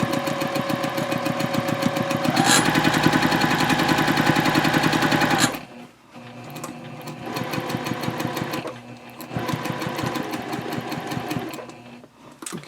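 A sewing machine runs fast and loud, stitching a half-inch seam on a handbag tote at 2.5 stitch length, then continues in shorter stop-start bursts with brief pauses.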